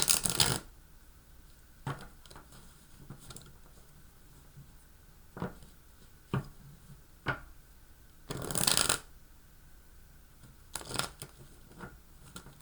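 Tarot cards being shuffled in quick, crisp bursts, with a few short riffles spread out between pauses; close and fairly quiet, no voices.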